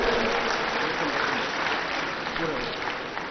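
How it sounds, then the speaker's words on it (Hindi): An audience at a yoga session led by a yoga guru applauds steadily and densely at moderate loudness, with some speech-like sound mixed into the clapping. "चलो जोरदार तालियां बजाओ इसके लिए"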